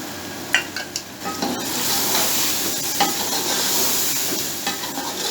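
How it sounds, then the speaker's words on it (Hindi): Spices sizzle in a hot pan while a utensil stirs and scrapes them, giving a steady frying hiss broken by sharp metallic clicks and knocks, close and fairly loud throughout. "इनको थोड़ा सा हम भूनेंगे मिसालों को जस्ट 30 सेकंड"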